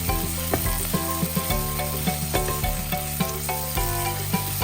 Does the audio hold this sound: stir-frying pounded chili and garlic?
yes